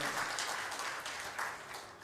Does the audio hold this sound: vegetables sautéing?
no